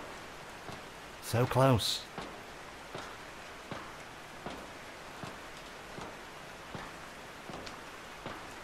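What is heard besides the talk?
rain effect in the video game Anji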